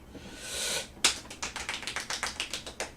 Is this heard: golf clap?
yes